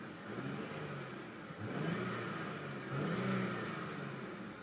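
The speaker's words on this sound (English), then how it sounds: "Very smooth engine." Engine of an Infiniti Q60 Red Sport 400 heard from inside the cabin, a muffled smooth hum that swells twice as the car accelerates, faint and steady with no talk.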